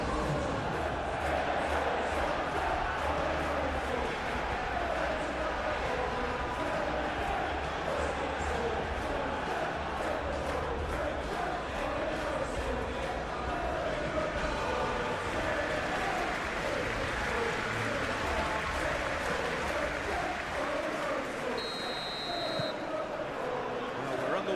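A capacity stadium crowd in the PES 21 football video game roars continuously throughout, a dense, loud wash of cheering and chanting with speech mixed in over it.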